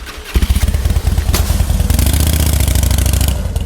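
A motorcycle engine rumbles close and loud, revving with pulsing, throbby firing beats that rise briefly after a start-like clatter, running steadily alone throughout.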